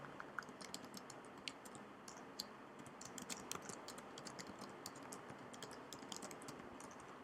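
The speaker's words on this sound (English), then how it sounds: "you should be typing in along with me" Fast, steady typing on a computer keyboard while a Python script is being written, with dense, close clicks and keystrokes running throughout and no talking.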